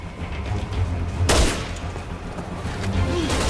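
Gunfire in Resident Evil 6 on PS3, one sharp loud shot standing out from a rumbling backdrop of distant firing and game noise, no voices.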